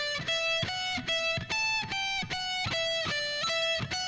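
Electric guitar playing a scale-pattern exercise ending, a steady run of clearly picked single notes and short phrases, close and fairly loud with a slightly distorted, effected tone and no talking.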